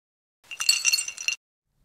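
Glass clinking as a burnt-out light bulb is replaced in a toy Playmobil scene, a bright cluster of tinkling and clattering lasting about a second, alone against silence.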